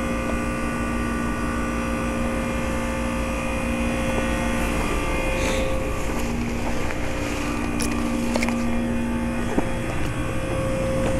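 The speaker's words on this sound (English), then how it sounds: "So this has been a Trane XL20i 3-ton heat pump running in heat mode." A Trane XL20i 3-ton heat pump running in heat mode, giving a steady, continuous hum with tonal drones and a broadband fan rush, plus a couple of faint clicks, no speech.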